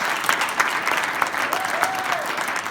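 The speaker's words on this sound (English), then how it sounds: "That's right, clap, that's right. You clap." A church congregation applauding: continuous, even clapping from a crowd with a faint voice rising briefly over it.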